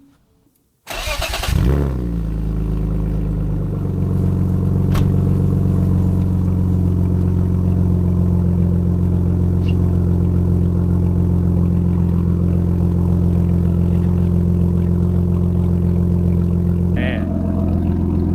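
A drift car's engine with a welded, leaking exhaust cranks and fires up, then settles into a loud, steady, rumbling idle with a deep droning exhaust tone, a brief rev near the end.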